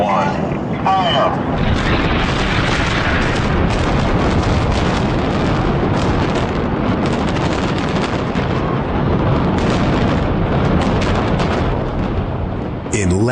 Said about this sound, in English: In less than 20 seconds, the Kingdome is reduced to a pile of rubble only 20 feet high.